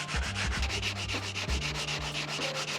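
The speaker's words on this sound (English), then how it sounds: "Now I'm gonna go in with like 150 grit sandpaper and just clean up the edges" Sandpaper of 150 grit rubs back and forth along the edges of a wooden table, giving close, scratchy strokes in a quick uneven rhythm, with no talking.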